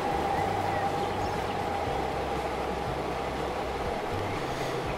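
A class 420 S-Bahn electric train rolling along in Transport Fever 2, a steady loud rumble with a faint motor whine and low rhythmic hum, continuous and close, with no talking over it.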